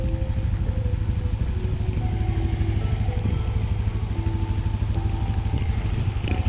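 A motorcycle engine runs steadily with a pulsing low throb in floodwater in Candaba after a typhoon, continuous and close throughout with no talking.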